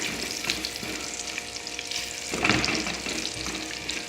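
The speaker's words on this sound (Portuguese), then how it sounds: "Vou dar mais uma mexida no bacon, você já vê que ele já tá, ó, dourando bem, né?" Bacon frying in a pan crackles and sizzles steadily while it is stirred, with a louder scraping swirl partway through and small pops throughout, close and fairly loud, no speech.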